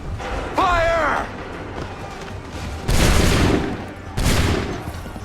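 Musket volleys from soldiers in Assassin's Creed III crack out as three loud, broad bursts spaced a second or two apart, each with a rolling tail, while a voice shouts among them.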